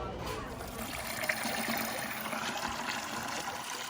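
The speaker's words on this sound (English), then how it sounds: "It's just water." Water trickling and splashing steadily on a farm, a close, continuous broadband wash without pauses.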